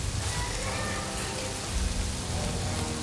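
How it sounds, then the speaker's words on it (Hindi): Heavy rain pours steadily outdoors at night, a dense continuous wash of drops with no pauses, fairly loud and close, with no talking. "ज़ोर की, बहुत ज़ोर की बारिश।"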